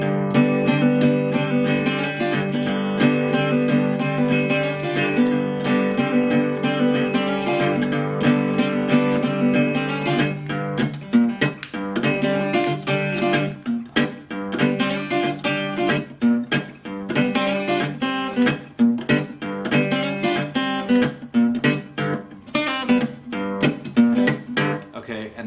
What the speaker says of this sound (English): And that is the guitar instrumental riff that he plays in the song